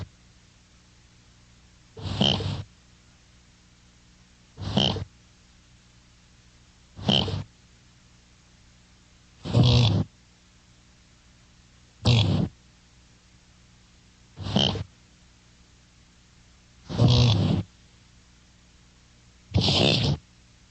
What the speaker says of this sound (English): Listen to the sound of a 2-year-old buck's grunt.